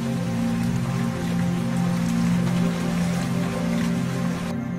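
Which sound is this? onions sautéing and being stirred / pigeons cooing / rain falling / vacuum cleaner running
rain falling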